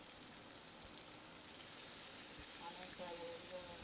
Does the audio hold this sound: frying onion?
yes